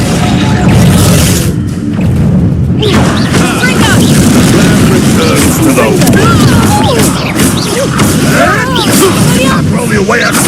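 Reducto blasting spell explosions in Hogwarts Legacy, a loud, continuous barrage of booming blasts and crashes in combat, with voices shouting over the action.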